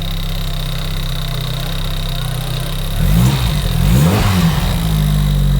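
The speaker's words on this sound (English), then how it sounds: "Go on, rev it up a bit." Engine of an 80s hot hatch found in a barn, idling steadily close by before being revved up hard around the middle, the note rising and surging in repeated blips before settling back.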